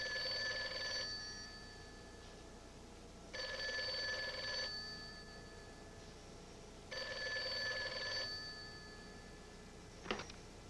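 A telephone rings three times in even bursts with pauses between, fairly quiet over a steady background hum, and a short click comes near the end.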